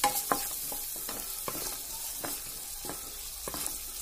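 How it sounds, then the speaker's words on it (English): Steady sizzling of garlic frying in butter in a pan, with repeated scraping stirs and light clicks of a utensil, close by and without talk. "as the garlic is frying"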